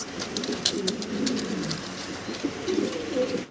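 Large exhibition pigeons in cages coo in low, throaty repeated calls close by, a steady murmuring under light background noise with no speech.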